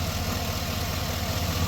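GM L92 V8 in a Yukon, Escalade or Tahoe idling high after a PCM flash and misfire trouble, a steady close-up low rumble with a faint knocking pulse and no variation in pitch.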